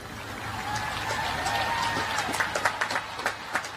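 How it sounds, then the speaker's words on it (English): Scattered, polite applause from cadets or graduates at a ceremony, distant and subdued, rising from a broad crowd hum into a few louder irregular claps toward the end. "You can kind of see the pained applause there"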